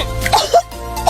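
A dry cough in an Indonesian cold and cough medicine advert, a short close throaty burst standing alone in about a second of audio.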